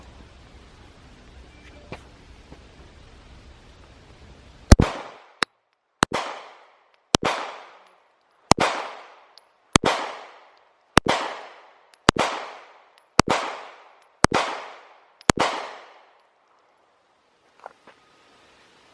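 A Shield Plus pistol fires ten rounds at a target 7 yards away, each shot a loud sharp crack with a ringing tail, spaced about a second apart in a steady rhythm.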